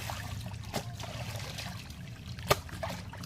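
Water trickles faintly while dishes are washed by hand, with soft splashes and one sharp clink of a utensil.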